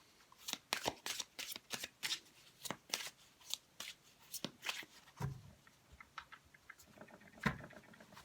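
Modern Spellcasters Tarot cards being shuffled, a run of quick papery riffles and taps that thin out into scattered softer flicks, close and fairly quiet, with no talking.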